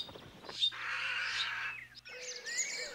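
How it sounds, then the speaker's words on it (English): Hungry bird chicks begging for food, giving shrill, sustained high-pitched calls in two long bursts, close and clear with no talking. "Young animals use a battery of persuasive signals to demand food from their parents."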